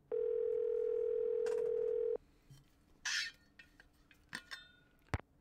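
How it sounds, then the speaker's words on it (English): A steady telephone dial tone in the Nancy Drew game Last Train to Blue Moon Canyon holds loud for about two seconds, then cuts off, followed by faint scattered clicks and clinks. "Let's call Bess."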